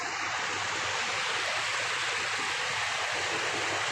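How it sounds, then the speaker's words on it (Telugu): A waterfall tumbling down rocks on a trek, a loud, unbroken rushing roar heard up close, dense and even throughout with no voices. "చూడండి ఇక్కడ నుండి దూకుతాయండి వాటర్"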